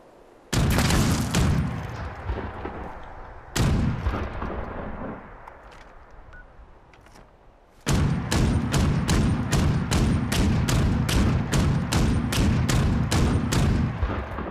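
Loud gunshots ring out, first a few scattered blasts, then after a pause a rapid, steady volley of repeated shots, close and sharp.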